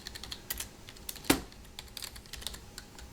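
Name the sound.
typing on computer keyboard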